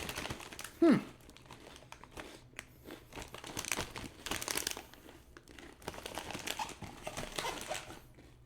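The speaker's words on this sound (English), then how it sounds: "Would you like more bag crinkling?" A Cheetos Flamin' Hot BBQ Cheddar snack bag is crinkled close to the mic in irregular bursts of crackly plastic rustling, with one sharper handling noise early on and no speech.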